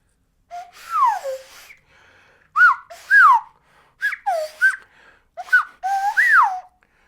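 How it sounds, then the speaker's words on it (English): A person whistles with the nose and mouth together, the pitch changed by reshaping the mouth: a series of close, clear bursts, each sliding up or down, separated by short breathy pauses. "So this is a mouth whistle or nose mouth whistle."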